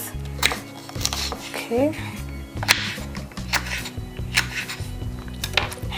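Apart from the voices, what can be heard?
slicing half an avocado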